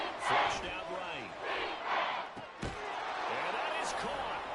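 Stadium crowd noise at a Seahawks home game in a Madden football video game: a roaring crowd with cheers swelling and fading, a sharp slam partway through, under a commentator's voice.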